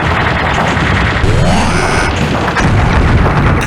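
A destroyed cannon blows apart in a space battle video game, a loud, dense burst of crashing explosion noise with a swooping tone, continuous through the whole stretch.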